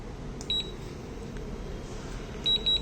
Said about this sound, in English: there is a beep coming out from the module